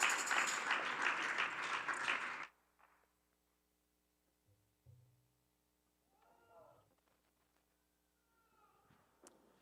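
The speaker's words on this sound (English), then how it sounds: "Oh, give yourself a big round of applause." Applause from a church congregation at a Unitarian Universalist worship service, a dense burst of clapping lasting about two seconds that stops abruptly, followed by quiet room noises and faint shuffling.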